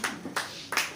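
A church congregation applauds for Jesus during a Sunday service, with three short loud bursts of clapping close by, each fading quickly before the next.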